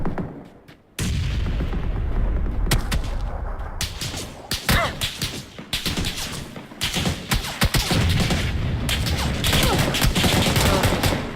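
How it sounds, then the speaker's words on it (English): Gunfire in the video game PUBG: after a quiet opening second, loud repeated shots and cracking volleys ring out nearly continuously, with sharp individual reports scattered among heavier bursts. "I just saw where they were shooting at me."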